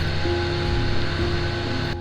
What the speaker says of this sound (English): The big waves kept making the boat bounce like crazy. Water kept splashing everywhere